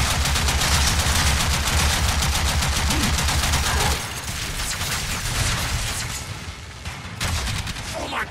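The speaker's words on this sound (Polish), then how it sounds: "Ponieważ do nas cały czas strzelają" Enemies fire on the player in the video game Warframe with a dense, relentless barrage of rapid automatic gunfire that drops to a softer, scattered stream of shots and impacts partway through.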